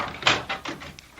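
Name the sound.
door being unlocked and opened, radio drama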